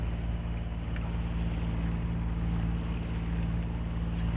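A sailing boat motors under engine with no wind through Kerrera Sound in Scotland, its engine giving a steady, close, low droning hum that holds even and unbroken throughout.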